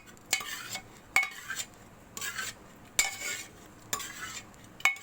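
Boiled chana dal is mashed in a pot with repeated rhythmic scraping and pressing strokes, about six close bursts with short pauses between them.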